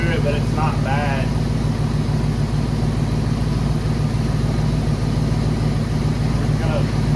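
A 1989 Ford Mustang 5.0 coupe with a five-speed idles steadily, a low even engine drone close by with slightly noisy idler pulleys, while a person talks briefly over it.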